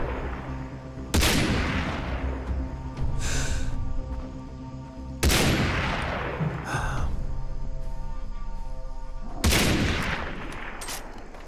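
Three loud sniper rifle shots fired at a buffalo in the video game Far Cry 3, each a sharp crack trailing into a long echoing rumble, spaced about four seconds apart with no talking.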